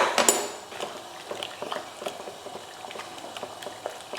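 Cooked eggplant for chutney mashed in a pot with a utensil, giving repeated soft wet squelches and light metallic taps in an irregular rhythm, close and alone.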